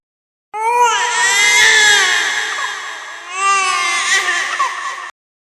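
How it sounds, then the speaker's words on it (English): A child cries in two long wailing sobs inside an audio horror story, loud and close, the second rising after a short dip. "Caleb heard a child crying."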